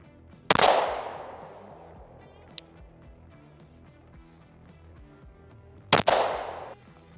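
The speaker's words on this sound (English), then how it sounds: "So I'm gonna shoot it right now and see" Two sharp, loud pistol shots about five seconds apart while a red dot sight is being zeroed, each with a ringing tail, plus a faint click between them.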